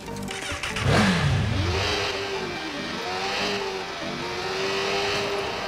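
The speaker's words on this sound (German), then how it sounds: "So, mit dem Motorrad." Motorcycle engine in the Watch Dogs video game revs up sharply, then holds a steady drone with rising and falling pitch sweeps as it accelerates through gears, loud and continuous with no talk.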